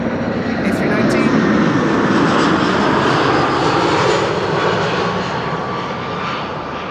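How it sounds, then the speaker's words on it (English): Lufthansa Airbus A319 jet arriving from Munich at Amsterdam Schiphol, a loud, sustained engine roar swelling slightly and then easing as it passes close by. "Lufthansa flight 2302 arriving from Munich."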